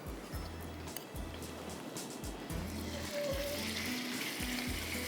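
Strips of beef undercut frying in hot oil in a pan, giving a steady, moderately loud sizzle with a low rhythmic thumping underneath throughout.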